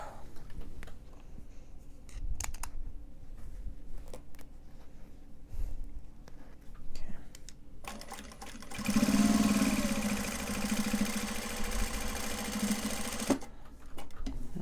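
A sewing machine stitching the base of a Japanese fabric cell phone purse, a close, steady mechanical whir that runs continuously for several seconds after quieter handling and clicking sounds, with no talk.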